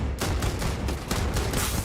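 Rapid, loud bursts from the Beowulf rifle in Starfield, a fast string of close, punchy shots with no talking.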